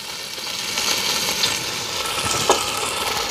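Chicken, in a dish with dried red chillies, fries on a wood-fired stove, giving a steady close sizzle and crackle with occasional sharper pops throughout.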